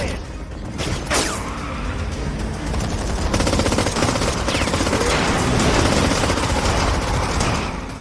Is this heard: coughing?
no